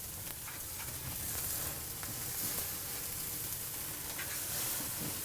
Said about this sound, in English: Don't be afraid to flip your steaks as many times as you need to.